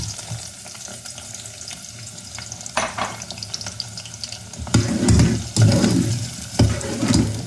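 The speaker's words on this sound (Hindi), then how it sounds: "ये अब ये ऑयल गरम है, इसमें मैं डालूंगी 2 मीडियम साइज अनियन" Two medium onions going into hot oil for a purslane and beef curry, a steady close sizzle that grows louder and busier partway through, with brief clatters of stirring.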